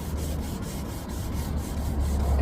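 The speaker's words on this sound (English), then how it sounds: "So I will carry on getting that sanded down." Steady, loud rasping of sandpaper worked by hand across a painted wing panel on an Audi TT MK1 3.2, a continuous scratchy rubbing with rhythmic strokes and no talking.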